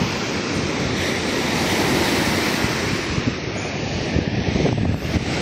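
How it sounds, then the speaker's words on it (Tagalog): Big ocean waves crash and roar against the shore during a typhoon, a loud, continuous churning surge with heavy gusting wind buffeting the microphone and no voices. "Ang lalaki ng mga alon."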